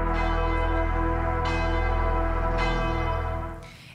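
Church bells ring in loud, sustained overlapping strikes with long resonant tails, several fresh strokes landing before the sound fades at the end.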